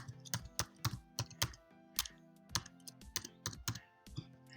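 Password being typed on a PC computer keyboard: a run of sharp, close key clicks in an uneven rhythm, each tap distinct and fairly quiet, with no talking over it.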